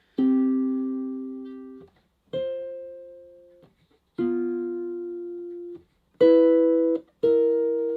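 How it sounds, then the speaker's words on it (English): Guitar plays five sparse two-note chords of only the third and seventh, one after another, each ringing out and fading before the next, the last two struck closer together. "a sparse way to play chords is just playing the 3rd and 7th of each chord"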